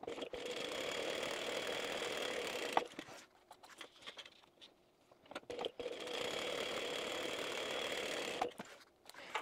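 Sewing machine quilting a bag, running in steady continuous bursts of stitching with a pause partway through while backstitching, then resuming at the same even pace; close and clear with no talk.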